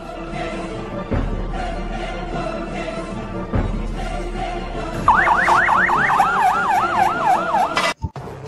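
An ambulance siren wails in a rapid rising-and-falling warble, loud and close, entering partway through over a busy background of street noise and thumps in a comedy skit scene.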